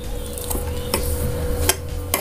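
Homemade oil-free peanut butter being stirred in a steel mixer jar, with a few sharp spoon clinks and scrapes against the metal over a faint steady hum.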